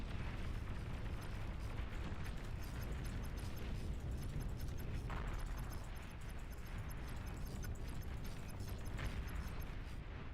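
Dense, continuous explosion and battle noise from a real-time strategy game, Beyond All Reason, as an enemy commander unit is destroyed; loud, sustained rumbling blasts with no pauses across the whole stretch.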